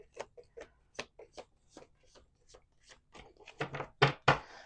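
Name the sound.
shuffling playing cards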